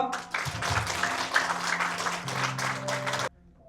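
Church congregation clapping together as a group: a dense, steady wash of applause that runs for about three seconds, then cuts off abruptly, with a low sustained tone underneath.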